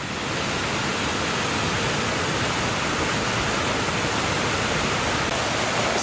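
Water splashing steadily in a Paris fountain designed by Visconti and built in 1844, heard as a continuous loud broadband rush with no pauses.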